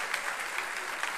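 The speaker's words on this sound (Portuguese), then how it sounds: "Quem crê nesta palavra, aplauda o nome de Jesus esta noite" A church congregation applauding during an evening service, a short burst of dense, continuous clapping with no speech over it.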